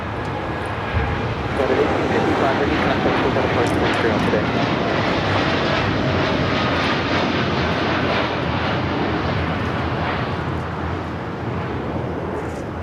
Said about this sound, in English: That was the United Dreamliner heading to Newark, taking off. Runway 25 left.